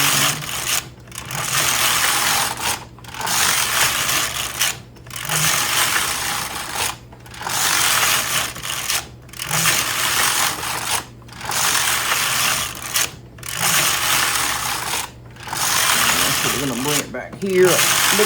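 Hamanaka needle knitter hand knitting machine casting on stitches: a steady run of mechanical clattering passes separated by brief regular pauses, close and fairly loud, with no talking.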